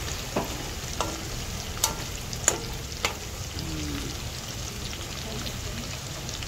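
Garlic fries with meat in a hot pan, a continuous sizzle broken by a few sharp clicks of a spatula stirring, while someone talks now and then.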